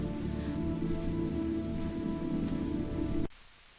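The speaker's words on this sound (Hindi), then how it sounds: "उस रात छोटू अपनी झुग्गी में बैठे बरसात की बूंदों को सुन रहा था" Steady rain pattering on the roof of a slum shack, a dense continuous hiss of drops that runs loud and unbroken, then cuts off abruptly near the end.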